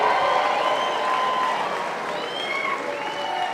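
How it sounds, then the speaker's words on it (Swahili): An audience at a political party's national delegates convention in a Nairobi hall breaks into applause, a broad wash of clapping mixed with raised voices and shouts that carries on steadily throughout. "Nataka tusimame na tumpigie makofi"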